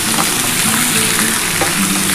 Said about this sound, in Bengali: আমি পেঁয়াজটার সাথে চিকেনটা একটুখানি ভালো করে ভেজে নেব।